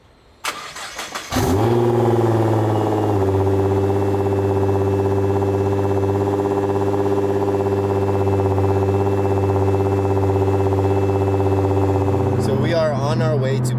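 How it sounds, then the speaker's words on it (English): Nissan GT-R R35 exhaust on a cold start: a starter crank and a loud catch, then a deep, steady, high idle held close and loud, with a brief blip near the end. "an audio clip of my exhaust on cold start and a couple revs"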